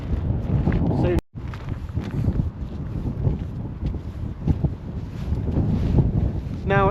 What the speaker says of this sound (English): definitely a lot more windy, especially if I point you this direction. You can probably hear it.